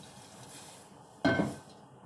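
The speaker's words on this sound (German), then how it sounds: "we start adding a little bit of cold water" Cold water is poured into a thick roux in a pan, a sudden short splash and bubbling burst that breaks a quiet kitchen background and fades within half a second.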